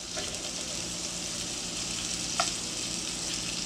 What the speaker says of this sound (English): So we're just going to let this cook up in this cast iron skillet a little bit.